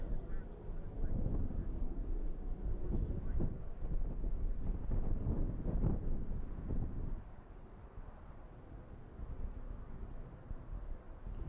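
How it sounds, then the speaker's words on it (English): Cold wind gusts buffet the microphone outdoors at night near an air base, a heavy low rumble that swells through the first several seconds and then eases to a steadier, quieter roar. "it is cold, but it's more the wind that's the problem"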